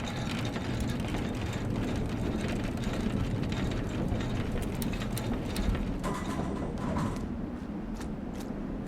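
A crank mechanism turns in the video game Metal Garden, giving a continuous grinding, ratcheting mechanical rumble with dense clicking throughout, steady and fairly loud with no voice.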